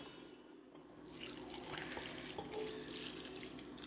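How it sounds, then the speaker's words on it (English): Hot water poured from a kettle onto ramen noodles in a bowl for spicy noodles, a steady close splashing pour that runs for about four seconds with no talking. "you're just gonna pour the hot water"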